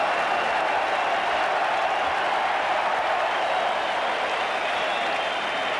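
A cricket crowd at the MCG during a Test match between Australia and India applauds in a steady, dense wash of clapping that holds at an even level throughout, heard from a distance.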